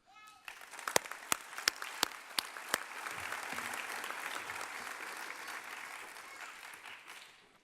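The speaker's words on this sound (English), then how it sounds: "may we celebrate our graduates with a round of applause?" A few sharp, isolated claps lead into a swelling wave of sustained audience applause at a graduation ceremony for graduates, steady and fairly distant, fading out at the end.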